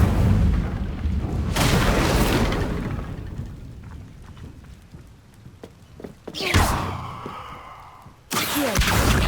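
Incendio fire spell cast in the video game Hogwarts Legacy, heavy whooshing bursts of flame with booming low rumbles, two sharp blasts near the end separated by quieter crackling.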